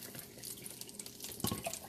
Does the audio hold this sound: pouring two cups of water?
yes